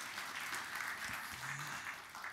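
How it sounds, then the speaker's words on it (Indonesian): A church congregation applauds for Jesus during a sermon, a faint, distant wash of clapping from many hands held at an even level throughout. "Ayo kita beri tepuk tangan yang meriah bagi Tuhan Yesus."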